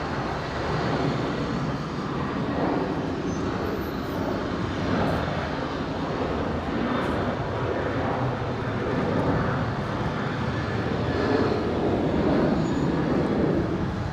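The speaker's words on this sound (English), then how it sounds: "Velocity 1222 rolling. The 7-3 heading to Canberra." A Virgin Australia Boeing 737 begins its takeoff roll at Brisbane, a steady, broad jet-engine roar that holds loud and unbroken throughout, with no voices over it.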